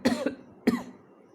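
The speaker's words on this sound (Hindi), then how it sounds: "गर्दन सूख जाता है, ड्राई हो जाता है, तो खांसना पड़ता है।" Two sharp, close dry coughs from a lecturer working through physics problems, the second following about half a second after the first, loud and near with silence afterward.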